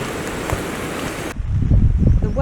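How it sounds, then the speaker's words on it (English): Rain and wind batter a camping tent on the Isle of Skye in Scotland, a steady broadband roar of gusts and pattering drops that swells louder in the second half with low rumbling buffets against the fabric. "The rain and the wind is here though. It's battering my tent."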